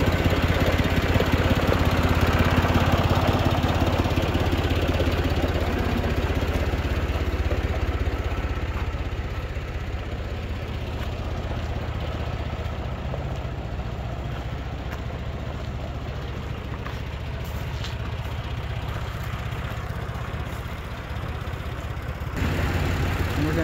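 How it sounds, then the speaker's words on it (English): A gas-engine transfer pump for unloading glycol to a HeatMaster 7000 wood boiler runs steadily nearby, a continuous mid-low engine drone that eases slightly after the first few seconds and then holds. "I guess it's called a transfer pump"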